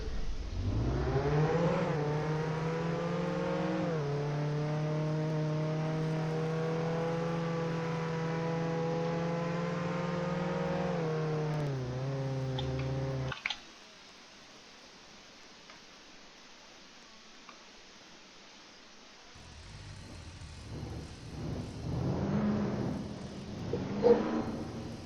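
A car engine in Roblox Jailbreak revs with a steady, loud harmonic drone for about thirteen seconds, then cuts out abruptly into near silence before softer game noises return.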